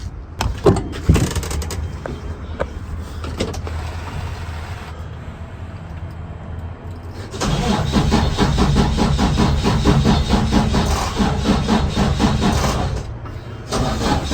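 A truck's starter cranks repeatedly from a JFEGWO F60 jump starter, a few short whirring attempts first, then a sustained loud labored cranking that never catches, close up with no talking.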